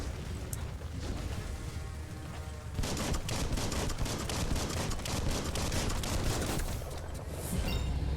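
Rapid bursts of gunfire from Biomutant, starting sparse and then becoming a dense, continuous volley of rattling shots that stays loud for several seconds.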